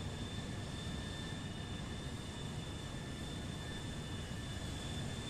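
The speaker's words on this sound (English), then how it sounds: "I hope this plane is gonna turn." An airplane engine drones steadily at an airport in the video game GTA IV, a constant moderate roar with faint high whining tones and no speech.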